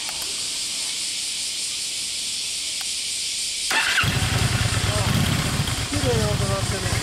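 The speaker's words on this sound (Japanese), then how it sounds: "そのあのエンジン音聞かせてもらえますか？" A 2012 Honda Steed 750 V-twin motorcycle, custom-built with a super handlebar, starts up about halfway through and then settles into a steady, loud, close idle after a quiet hiss.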